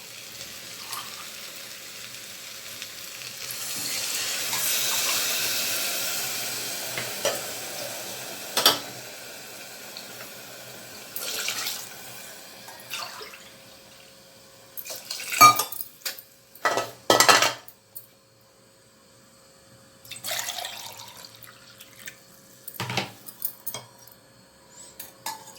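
Water is poured into a pressure cooker for wheat upma, with a running-water rush early on, then clinks, knocks and clatters of metal utensils and vessels, sharp and close, between quieter stretches.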